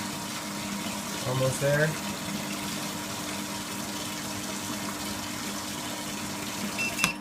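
Water is pumped into a homebrew HERMS vessel, a steady close hum and rushing flow running throughout while a voice speaks briefly near the start.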